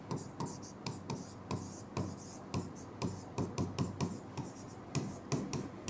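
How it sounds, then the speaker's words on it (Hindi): Pen scratching across a paper application form, quick irregular strokes close to the microphone, with quiet speech underneath. "मैं नीचे लिख रहा हूँ यहाँ।"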